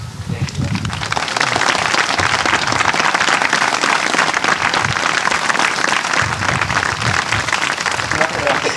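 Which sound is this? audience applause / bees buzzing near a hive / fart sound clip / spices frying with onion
audience applause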